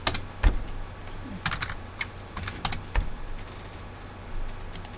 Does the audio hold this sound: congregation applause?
no